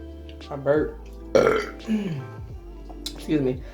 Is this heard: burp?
yes